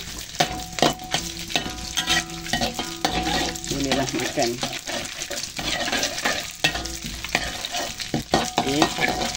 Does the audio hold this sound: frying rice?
yes